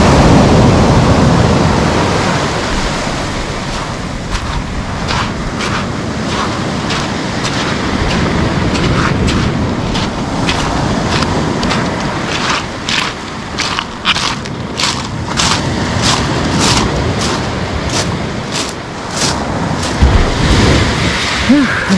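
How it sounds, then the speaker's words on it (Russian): Waves break and wash over the shore at Lazarevskoye near Sochi at midday, a loud, continuous surging roar with crackling wash and gusts of wind hitting the microphone. "Волна. Такая большая, как мне показалось."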